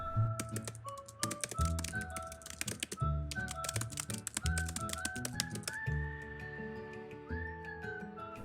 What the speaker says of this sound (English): Typing Out The Great Gatsby